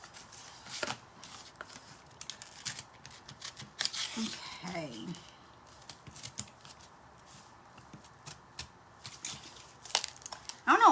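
Scissors snip through paper for a St Patrick's Day door hanger craft, giving scattered crisp cuts and rustling between stretches of quiet, with a person speaking briefly.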